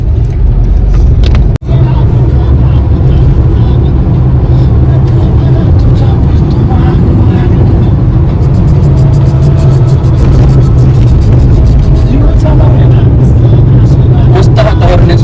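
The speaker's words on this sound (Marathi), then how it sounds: "खूप मजा येते गाडी चालवायला या रोडला" A car travels along a road in Navi Mumbai. A steady, loud engine and road rumble runs throughout, with faint vehicle noise passing in the background.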